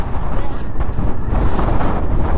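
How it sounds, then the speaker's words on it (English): Super strong wind in Patagonia roaring and buffeting hard against the microphone, a loud continuous rumbling gust with no letup. "Super strong winds."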